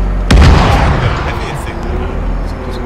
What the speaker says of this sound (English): I think mortars.